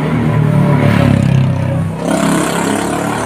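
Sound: motorbike passing by

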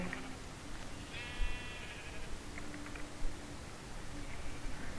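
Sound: sheep bleating in the video game Minecraft

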